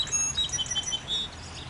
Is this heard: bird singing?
yes